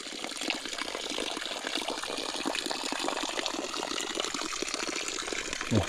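Water poured and splashing while an old man is bathed outdoors on a hillside farm, a continuous rushing gush that stays even throughout, close by with no talk.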